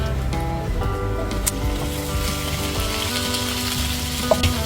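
Beef sizzling and frying in a pan with onion and garlic, a steady crackling hiss throughout, close and loud, with occasional clinks of stirring.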